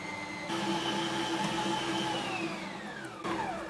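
A kitchen machine kneads a sticky, yellow Easter dough with a steady close motor whine and hum, sustained throughout with a slight shift in pitch near the end and no talking.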